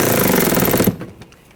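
Power tool rapidly hammering a bolt tight on a bracket of a 2014-2020 Nissan Rogue 2.5L, a loud close burst of fast rattling impacts lasting under a second, then cutting off into quiet.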